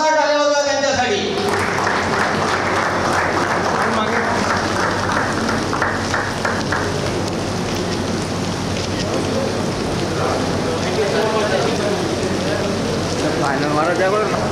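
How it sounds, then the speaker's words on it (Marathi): Loud, sustained applause from a crowd at a Masters 40+ cricket club's annual general meeting, dense clapping continuing the whole time, with a voice briefly at the very start. "एकदा जोरदार टाळ्या वाजवा त्यांच्यासाठी."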